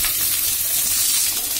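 Onion and capsicum stir-frying on high flame for chilli chicken, a loud continuous sizzle up close with no voices.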